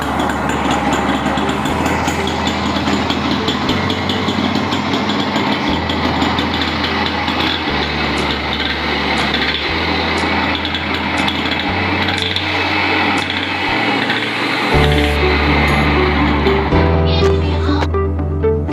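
A 1983 Yamaha YB100 motorcycle engine starts after long disuse and settles into a steady, buzzing idle, running loud and close throughout with a few shifts in pitch and roughness.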